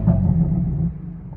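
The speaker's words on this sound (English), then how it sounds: "let's give it a quick rev and see what the burbles sound like" A tuned BMW M4 with an MHD Stage 2 tune gives a brief deep rumble, a close, heavy low exhaust note that holds for most of a second and then fades off, with no speech.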